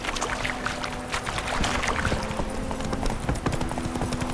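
Roach, a horse in The Witcher 3: Wild Hunt, clip-clops along at a steady gait, hoofbeats close and continuous over a low ambient hum and faint water-like wash.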